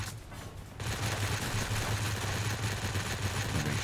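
Rapid machine-gun fire from a video game fighter combat rattles steadily under a constant engine drone, dense and sustained throughout.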